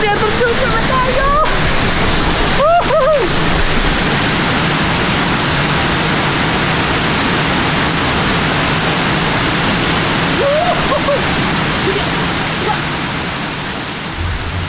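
Steady, loud rush of a waterfall in a Kalimantan forest, a broad continuous roar filling the whole stretch, with a few brief faint voices breaking through near the start and middle.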